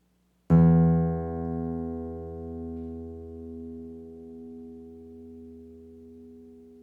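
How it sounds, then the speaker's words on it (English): A single guitar string is plucked once with a sharp, bright attack, then rings on as a clear sustained note that fades slowly over several seconds, alone and close. "Guitar strings create a sound with a rather sharp attack."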